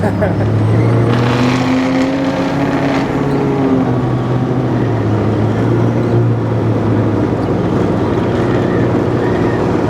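A supercharger blower on a Ford Dentside crew cab truck with a swapped Coyote engine runs, heard as a loud engine note with whine that rises and falls, and voices talk over it.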